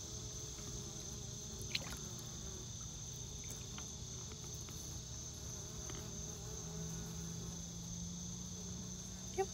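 Honeybees in a hive buzz during feeding with sugar syrup, a steady, dense drone that continues throughout at a fairly low level, with a few faint clicks and no talking.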